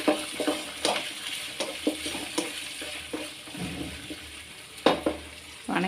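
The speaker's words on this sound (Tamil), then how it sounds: "திருப்பியும் கீரை வந்து எண்ணெயில் வதங்கணும்" Mudakathan greens and curry leaves sizzle in sesame oil in a kadai as a spatula stirs and scrapes in irregular close strokes, with a steady frying hiss underneath.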